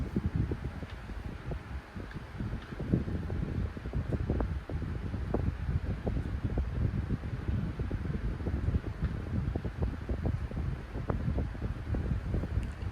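A Galaxy 9-inch desk fan with a shaded pole motor runs steadily, giving a soft whooshing airflow with faint rattling, continuous and fairly quiet.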